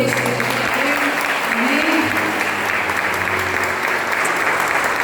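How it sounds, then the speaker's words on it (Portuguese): Church congregation applauding God during a worship service, dense sustained clapping from a large room that fills the space evenly, with singing or sustained tones and a voice briefly speaking over it. "Você pode aplaudir a Deus."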